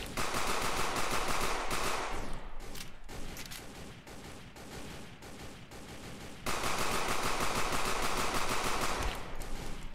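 Gunfire in the video game Sneak Thief, rapid dense automatic-sounding bursts filling the whole stretch, briefly thinning in the middle before resuming loudly.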